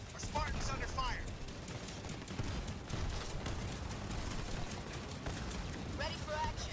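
Gunfire crackles through a Halo Wars 2 battle, dense bursts of shots and explosions rumbling continuously at moderate level, with short in-game voice lines over the top.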